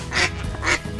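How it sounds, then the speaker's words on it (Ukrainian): Two quick duck quacks, loud and close, spaced about half a second apart. "Баритонили качки."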